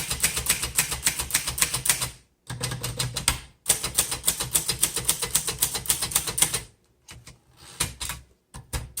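A 1951 Underwood Finger Flite manual typewriter types in fast, rhythmic bursts of sharp key strikes, loud and close, broken by brief pauses and the carriage clunking.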